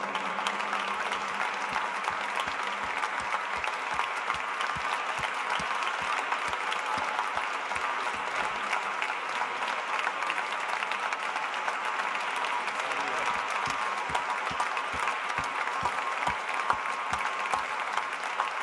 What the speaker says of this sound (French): Et dans vos applaudissements